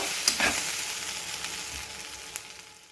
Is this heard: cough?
no